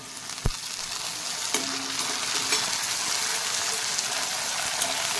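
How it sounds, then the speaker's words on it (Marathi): Tomatoes dropped into a pan of golden brown fried onions for a dried bombil curry, hissing and sizzling steadily with a few stirring scrapes and a sharp knock near the start. "कांदा आता गोल्डन ब्राउन झालेला आहे, यामध्ये टोमॅटो टाकून घेते।"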